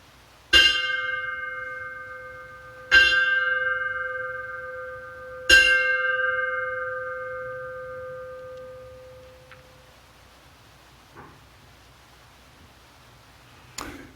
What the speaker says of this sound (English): Please ring the bell 3 times.